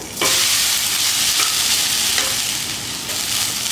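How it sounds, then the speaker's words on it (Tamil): Grated coconut fries in ghee with a steady, loud sizzle, broken by a few soft stirring scrapes, for a coconut laddu. "நெய்யில் வதக்கும் பொழுது தேங்காவோட மனம் அவ்வளோ சூப்பராக இருக்குது"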